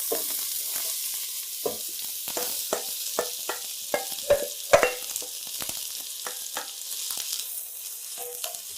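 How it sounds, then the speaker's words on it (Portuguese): Chopped onions sauté in neutral vegetable oil in a pan, a soft steady sizzle broken by repeated scraping and clacking as a utensil stirs them, close and moderately quiet with no talking. "E agora eu vou refogar todas as cebolas aí."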